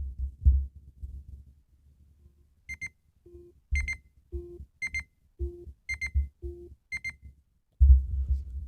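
A Nintendo Switch 2 controller buzzes with pulsing vibration alongside a repeating two-tone electronic alarm beep, several evenly spaced cycles, with a low rumble before and after.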